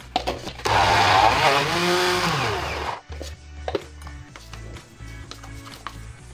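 An electric grinder blends peanuts with salt for Moroccan amlou, a loud whirring roar for about three seconds that then drops to lighter intermittent grinding and clatter.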